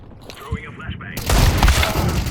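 A flashbang grenade in a video game goes off with a sharp, loud bang and a bright hissing burst that lingers, after a short stretch of quieter game sounds.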